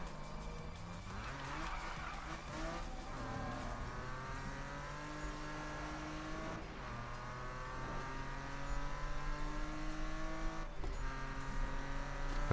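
A BMW M3 GTR in Need for Speed (2015) drifts with a loud, sustained engine note shifting through gears, tire squeal rising and falling, constant and close with no speech.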